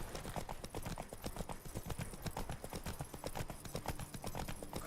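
Hooves pound in a fast, unbroken galloping rhythm as Roach runs in the video game The Witcher 3, close and even throughout, with a faint snort or whinny underneath.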